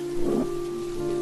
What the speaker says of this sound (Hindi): बाहर घमासान बारिश होती है।